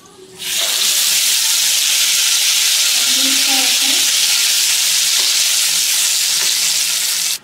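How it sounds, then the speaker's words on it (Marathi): Hot oil tempering is poured into ground chutney and erupts into a loud, close, continuous hissing sizzle that holds steady for several seconds, then cuts off abruptly. "ही फोडणी आता वाटलेल्या चटणीत घालून घेऊया"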